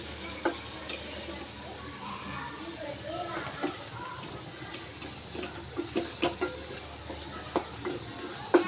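Pav bhaji masala fries in oil with onion and tomato, a moderate sizzle broken by quick clinks and scrapes of stirring, while a voice talks in the background.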